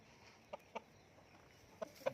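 A fighting cock at Phet Narin farm, of the Thayat Dam Jo Kro line, gives four short, soft clucks spaced irregularly, quiet and somewhat distant over faint outdoor background noise.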